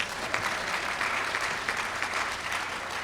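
An audience claps steadily at a panel introduction during a tourism dialogue, a dense, even wash of many hands held at a constant level throughout.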